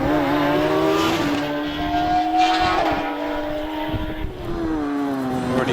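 An Empire Evo 3 hillclimb race car with a 1.6 booster engine screams up the Harewood hill, engine note climbing and dropping through gear changes, loud and continuous with no talk.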